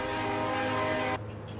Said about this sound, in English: This is one train horn.